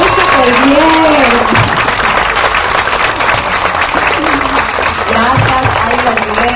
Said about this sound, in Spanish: Un aplauso a los compañeros que hicieron súper bien.